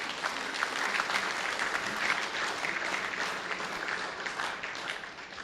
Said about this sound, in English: I think they deserve a great round of applause